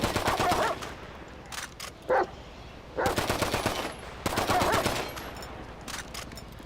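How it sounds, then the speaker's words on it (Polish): Rifle gunfire in GTA 5 comes in loud rapid automatic bursts, each lasting about a second, separated by short pauses, with a few single shots between them. "I teraz bierzecie jeszcze jakiś inny karabin i jeszcze raz niszczycie."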